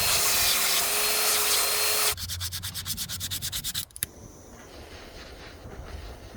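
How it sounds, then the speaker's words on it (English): A red oak revolver grip being ground: two seconds of loud, close abrasive grinding, then a rapid rhythmic rubbing scrape that ends with a knock, followed by a lower steady whir. "I'm gonna grind that out and reburn that real quick."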